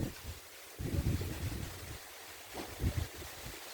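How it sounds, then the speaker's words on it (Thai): Strong wind buffets the microphone in heavy gusts, rumbling and roaring in bursts with brief lulls between. "ลมแรงมาก"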